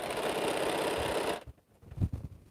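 Home sewing machine stitching quilt fabric in a steady fast whirring run for over a second, then stopping abruptly, followed by a few soft handling knocks and taps.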